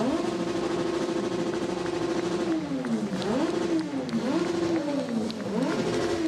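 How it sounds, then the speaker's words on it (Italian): Several motorcyclists at a funeral in Treviso rev their engines, first in a sustained droning roar and then in repeated rising and falling swells, loud and continuous throughout. "A seguire il feretro alcuni motociclisti che hanno fatto rombare i motori."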